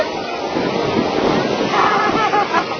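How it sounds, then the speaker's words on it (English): Water waves wash in with a steady, loud rushing hiss that holds throughout, with wind buffeting the microphone. "Here comes the water."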